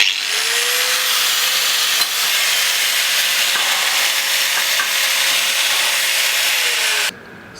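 Power tool cutting through thick metal plate about 3 to 4 mm, a steady loud grinding hiss with a high whine running unbroken for about seven seconds before cutting off abruptly.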